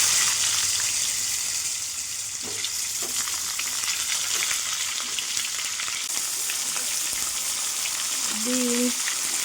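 Vegetables including potato, pumpkin and beans sizzling in a pan with five-spice, for a pumpkin-stem and poppy-seed curry: a steady, close frying hiss with faint stirring clinks throughout.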